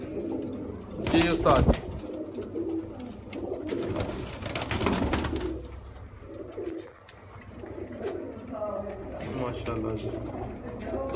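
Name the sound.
pigeons cooing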